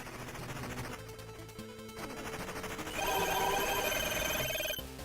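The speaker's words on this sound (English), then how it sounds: "It is, yeah, it's the T-Mobile ringtone." A T-Mobile ringtone chimes during gameplay of Mina the Hollower, a bright tonal jingle of stacked high notes rising over the game's music and effects in the last two seconds, fairly loud and without talk.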